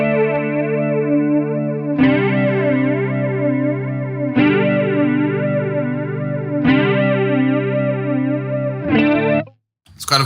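An electric guitar chord rings through a slow chorus modulation effect and is restruck about every two and a half seconds. Each chord swells and wavers gently as it sustains, and it cuts off briefly near the end.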